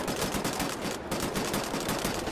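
Rapid automatic gunfire in the first-person shooter Wolfenstein: The New Order, a dense unbroken stream of shots with one brief gap near the middle, loud and close with no talk.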